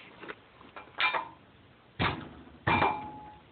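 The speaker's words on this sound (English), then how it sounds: "That is the opener. That is how you open it." A bottle of Woodchuck hard cider is worked with a bottle opener, giving a few sharp metallic clanks and knocks spaced about a second apart, with a faint ringing tail after the later strikes.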